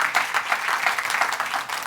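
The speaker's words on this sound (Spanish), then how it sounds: "Den un aplauso maravilloso al nombre de Jesús." A church congregation applauding steadily, a dense, even patter of many hands clapping close by with no pauses, and no voices over it.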